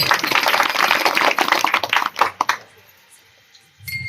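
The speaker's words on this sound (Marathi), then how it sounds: "त्यांच्यासाठी एकदा जोरदार टाळ्या वाजवा" Audience at a Marathi kirtan breaking into loud, dense applause that fades out after about two and a half seconds, followed by near quiet.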